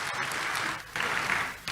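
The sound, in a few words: applause for Jesus in church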